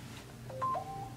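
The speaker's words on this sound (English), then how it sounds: "a text message?" A short phone text-message alert, a quick sequence of two or three bright electronic tones over a low steady hum, faint and brief with no talking.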